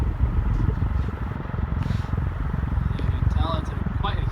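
A JAB 36-inch SMC industrial ceiling fan runs at high speed, giving a loud throbbing rumble and rushing air close by, with a voice briefly heard near the end.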